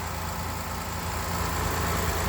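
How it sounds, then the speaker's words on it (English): A 2017 Honda Accord engine idles steadily with a low, constant rumble and hum, running smoothly throughout with no voices. "Give it a shot of the motor running."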